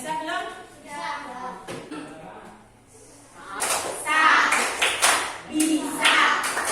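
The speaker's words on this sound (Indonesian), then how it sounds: "Sebelumnya tepuk dulu, main semangat." A classroom of children doing a clapping chant with their teacher, with voices calling out between bursts of rhythmic group claps that grow louder and denser in the second half.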